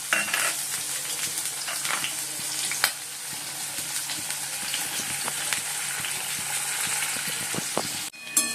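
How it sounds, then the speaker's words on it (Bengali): Onion sizzles steadily in hot oil in a wok, a loud continuous frying hiss with occasional scrapes and clinks of a stirring utensil, alone with no voices. "এবারে একটু পেঁয়াজটা ভেজে নিলাম"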